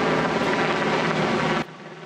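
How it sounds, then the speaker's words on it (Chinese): A firefighting helicopter flies over a forest fire, its engine and rotors a loud, steady roar that continues unbroken, then drops sharply to a faint rumble near the end. "空勤直升机嘛出动34摆为空中拍火"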